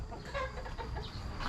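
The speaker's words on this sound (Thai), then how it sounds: "ไก่เยีย" A hen clucking in a rural Thai backyard, a few short close clucks in quick succession over faint outdoor ambience.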